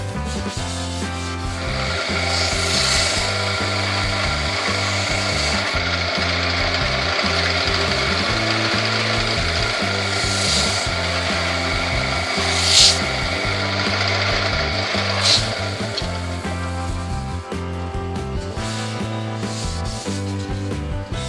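Finish being rubbed hard into a sapele bowl spinning on a wood lathe, heard as a steady, fairly loud rubbing hum with the lathe's droning whir throughout and a couple of brief louder scuffs.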